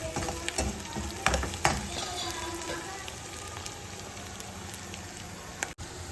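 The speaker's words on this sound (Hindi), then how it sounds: "इस वजह से थोड़े हल्के से हम प्याज को थोड़ा कम भूनते हैं" Onions frying lightly for kadhi, a low steady sizzle with a few scraping stirs early on, then quieter continuous frying close by.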